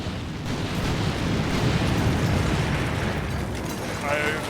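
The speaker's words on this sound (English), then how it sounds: "I decided to bombard the inn with our heavy artillery" Heavy artillery bombards an inn in the video game Combat Mission, a dense, continuous rumble of blasts and booms filling the scene at a steady loud level.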